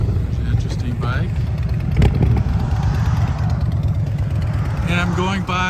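A motorcycle engine runs with a steady low drone, heard on a desert highway from Beatty, Nevada, with someone talking over it and brief higher tones near the end.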